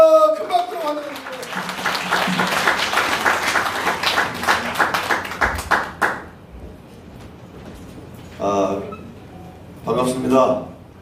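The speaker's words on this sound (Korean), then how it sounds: "큰 박수로 환영합니다" Audience applause at a Korean patriotic rally about election fraud, dense clapping from about six seconds in, then dropping away; short bursts of speech follow in the quieter stretch.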